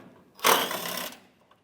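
A ratchet or power driver spins out a 12mm headlight bolt on a 2011-2016 Hyundai Elantra in one short, close burst of under a second, followed by a faint click.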